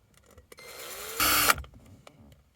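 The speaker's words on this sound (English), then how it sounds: "I'll just drill another one here." A small drill bit boring a hole in a broken plastic vent selector piece from a Dacia Spring EV, giving one short whirring burst that rises to a louder peak and then stops, close and clear.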